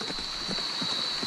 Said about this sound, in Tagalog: yung apak ng kabayo